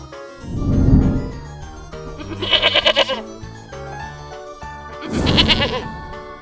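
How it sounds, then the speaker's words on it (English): A goat bleats in a few loud, wavering calls close by, a burst near the start, a quavering bleat in the middle and another toward the end, with light background music between. "Goat."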